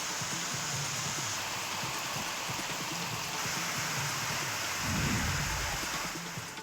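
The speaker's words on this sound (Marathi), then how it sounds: "लांजा, राजापूर, चिपळूण, देवरुख या जिल्ह्यातील अनेक भागात पावसाच्या सरी कोसळत आहेत" Heavy monsoon rain falls in the Konkan region around Lanja, Rajapur, Chiplun and Devrukh, a steady dense hiss of downpour with a brief low rumble swelling partway through.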